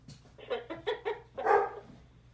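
Pet dogs barking indoors, a quick run of four or five sharp barks followed by a louder, longer bark, moderately close with no talk.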